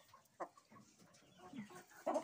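A plump, short-legged hen clucks softly nearby in a few short, separate calls, quiet and alone.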